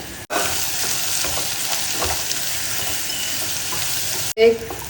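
Chopped onions with ginger, garlic and curry leaves fry in hot oil, giving a steady close sizzle with a few stirring scrapes and a clank near the end.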